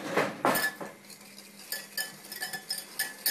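Egg yolks and sugar are beaten in a bowl, with quick irregular clinks and scrapes of a utensil against the bowl, close and fairly loud, and no talk.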